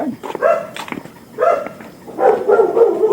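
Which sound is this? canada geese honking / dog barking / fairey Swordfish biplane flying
dog barking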